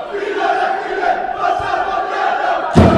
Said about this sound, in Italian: Si fanno sentire nel frattempo le due tifoserie che a gran voce stanno sostenendo i propri beniamini